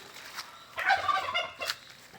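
A brooding turkey gobbles in a quick rattling burst, fairly close, followed by a shorter second call, with no talking.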